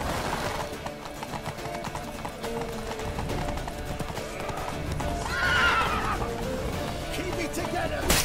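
Horses galloping and neighing in The Witcher 3, a rapid run of hoofbeats under shouting voices, with a sharp whinny rising near the middle.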